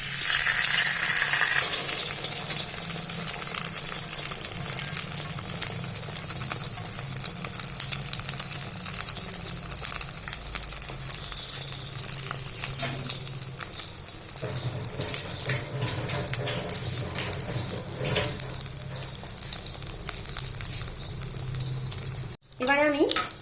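Egg-soaked bread for French toast fries in a hot pan with a steady, close, hissing sizzle that holds at an even level, briefly cut off near the end before resuming.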